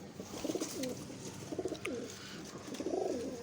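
Pigeons coo close by in a loft, repeated soft, throaty, rolling calls in quick bursts over low background noise.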